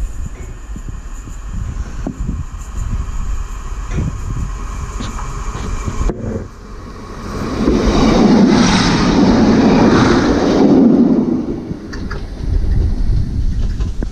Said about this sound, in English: Two car DMU set.